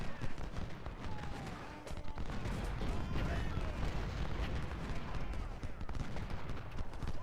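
Artillery fire in the Civil War strategy game Ultimate General: Civil War at First Bull Run, a dense continuous rumble of distant cannon and musket volleys blending into a constant battle roar.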